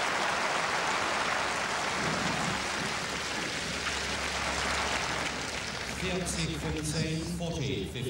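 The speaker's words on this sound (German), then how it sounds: "Der Beifall ist so verhalten des Publikums" A tennis crowd at the 1986 German Open final between Graf and Navratilova claps in a steady, subdued patter that fades as a voice speaks over it near the end.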